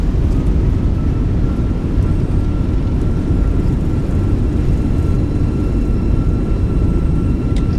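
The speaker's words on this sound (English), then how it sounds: "Right on the markers, nose down gently, reversers are out, decelerating." Thrust reversers roaring on an Airbus A319 decelerating after landing in a flight simulator, a loud, steady low rumble of engine noise with no pauses and no talking.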